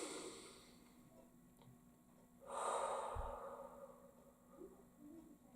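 During an acupressure session a person takes a long, slow, breathy exhale, close and soft, over a quiet background hum.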